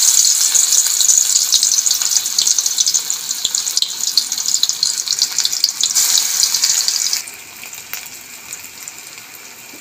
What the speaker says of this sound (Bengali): এপিট ওপিট করে লাল লাল করে ভালো করে ভেজে নেব